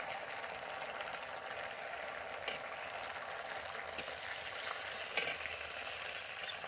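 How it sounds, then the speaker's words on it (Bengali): Water added to a frying sauce with soft curry leaves and stirred in the pan makes a faint, steady sizzle with occasional light scraping clicks from the stirring. "দেখুন আমি জলটা দিয়ে দিচ্ছি বেশ ভালো করে এটাকে একটু নেড়ে নেবো"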